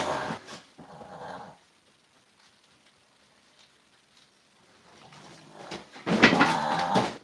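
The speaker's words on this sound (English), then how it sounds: "Oh, there goes my dog choking." A pet dog choking indoors, with a couple of short rough retching bursts at the start, a quiet gap, then a loud, harsh gagging burst near the end.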